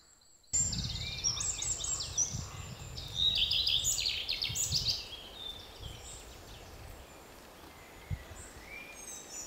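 A redstart sings bright, twittering phrases outdoors, fairly near, over a low rustling background, the song fading out partway through.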